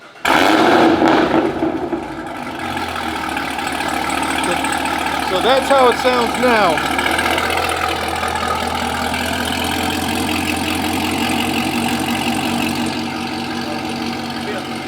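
An 810-horsepower Camaro ZL1 V8 cranks and starts with a loud burst, then settles into a steady, rumbling idle close by, with a person speaking briefly over it.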